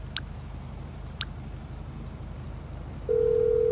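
A phone call in GTA 5: two brief electronic beeps followed by a steady, loud dial or ringback tone that starts near the end and holds without a break.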